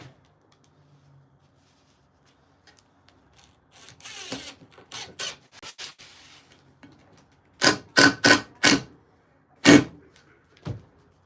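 Small drywall screws are driven into glued-up wood, giving short, close whirring and ratcheting bursts. A quieter cluster comes first, then several louder ones in quick succession after a pause.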